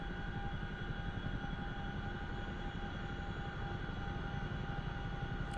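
A CH-47F Chinook helicopter in the DCS flight simulator starts up, its engines and turbines holding a steady, even whine and drone with fixed tonal lines over a low rumble for several seconds, with no voices.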